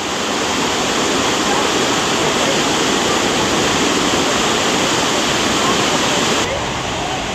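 Loud, steady rush of water churning into a canal lock chamber as it fills, strong flow, a continuous roar with no breaks, close by.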